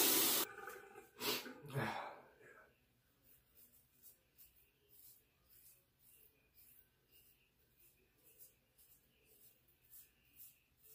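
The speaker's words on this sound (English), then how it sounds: "feel like I'm going to sneeze again" One sharp, loud sneeze near the start of a wet shave, followed by quieter breathing and soft rhythmic rustling sounds.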